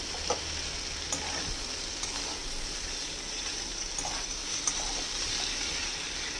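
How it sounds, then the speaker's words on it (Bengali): Kundri (ivy gourd) bhaji with small prawns sizzling and frying in a pan while being stirred, a steady close hiss with occasional scraping stir strokes, no talking. "এবার এটার সঙ্গে ভালো করে মিশিয়ে দেবো"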